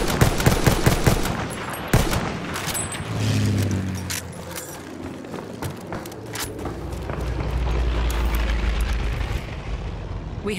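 Rapid machine gun fire rattles in Battlefield 1, loud bursts layered with scattered distant gunshots and rumbling battlefield noise throughout, with no talk.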